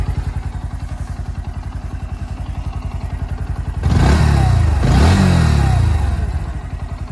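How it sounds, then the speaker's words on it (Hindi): Bajaj Pulsar NS 125 motorcycle exhaust, loud and close: a steady thumping idle pulse, then two quick throttle blips that rise and fall before it settles back to idle, with no one speaking. "सो ऐसी थी कुछ इसकी एग्जॉस्ट साउंड।"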